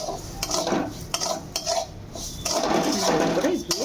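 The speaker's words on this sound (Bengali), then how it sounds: "ভালো করে দিয়ে ভেজে নেব।" Shyama rice being fried with a bay leaf in a pan for payesh, a spoon stirring and scraping the metal pan in repeated strokes over a low sizzle, close and steady.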